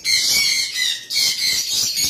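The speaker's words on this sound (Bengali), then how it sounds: "এই দুটো এক পেয়ার পাখি, রানিং পাখি।" A pair of lutino opaline pet birds calls at close range, giving loud, shrill squawks in repeated bursts with brief gaps between them.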